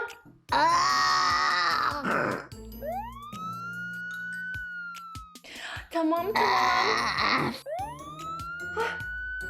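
During a puppet comedy about a spa salon and a broken foot, a voice imitates an ambulance siren with two long rising wails. Loud, strained groaning vocal bursts break in between, and speech is heard.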